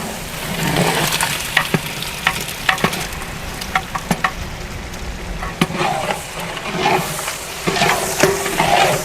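Chopped tomatoes frying in a pot with chilli powder, Kashmiri chilli and rock salt for chicken biryani, stirred continuously: a steady close sizzle broken by repeated scraping and clattering spoon strokes.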